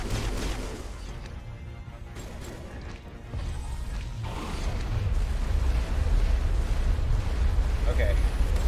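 A grenade blast in the Mass Effect game during an Insanity-difficulty fight against Saren, a deep rumbling boom swelling under a dense layer of battle noise and gunfire, with a voice talking over it.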